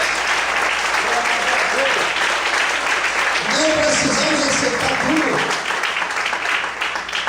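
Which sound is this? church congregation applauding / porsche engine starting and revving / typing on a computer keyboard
church congregation applauding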